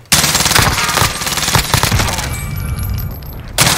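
Close-range automatic gunfire from a Krig and Mac-10 in Call of Duty Warzone, a loud continuous rapid burst of shots lasting several seconds with a brief break and another burst at the end.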